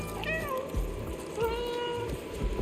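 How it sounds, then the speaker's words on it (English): A cat meows twice in the video game Stray, two clear, close calls with a quiet gap between them and faint soft background sound. "there's a dedicated meow button that I rarely stopped pressing"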